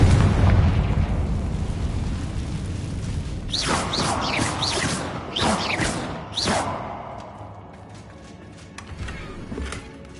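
A Confringo spell explosion in the video game Hogwarts Legacy, a loud booming blast followed by several bursting pops and crackling debris that fade into a quieter rumble.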